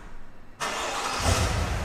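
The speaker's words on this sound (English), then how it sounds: "What you can do to start up the car is press this on the key" A 2021 Cadillac SUV engine, started with a button on the key, cranks suddenly after a moment of quiet and settles into a steady, close idle.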